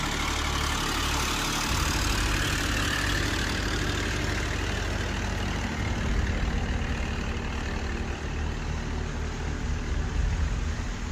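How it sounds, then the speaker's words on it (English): A truck engine drives through thick muddy water with a loud, steady, low diesel drone and a rushing noise over it, with no voices. "This truck is powering through that muddy water with such ease and confidence"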